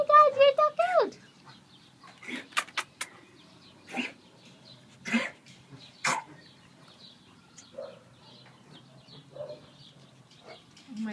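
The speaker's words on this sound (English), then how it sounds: "all I hear is coughing around me" Scattered short coughs and hacking sounds from dogs in an animal shelter, some near and some farther off, with a bit of speech at the start.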